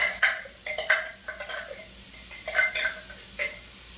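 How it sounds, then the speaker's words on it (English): Diced onion and chopped pepper stirred in a soup pot, a spoon scraping and clinking against the metal in several short bursts, close and moderately quiet, with no talking. "And give it a little stir."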